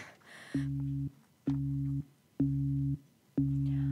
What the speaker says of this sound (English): I'm sorry, Murray Hill 70093 is busy. I can hear it.